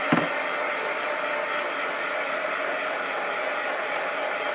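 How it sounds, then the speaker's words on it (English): A hair dryer blows steadily close by to dry a craft piece, a loud, even whooshing hum that begins with a brief click and runs unbroken. "then you're going to take your dryer, and I put your dryer over on that side by you."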